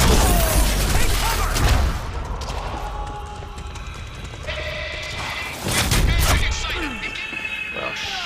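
Gunfire in the Quantum Break video game, a garage firefight with heavy bursts of loud shooting at the start and again midway, mixed with game effects and voices.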